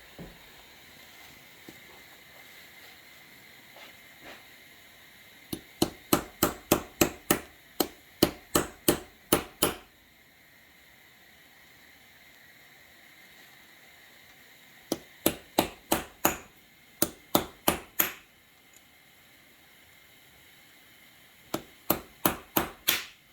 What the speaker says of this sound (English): Let me see if I can tap it loose.